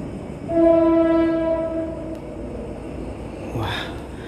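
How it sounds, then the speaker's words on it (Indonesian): A train horn sounds in a long steady blast near an abandoned textile factory complex in Pasuruan, then the low rumble of the passing train continues with a brighter rush near the end. "terdengar suara kereta yang lewat"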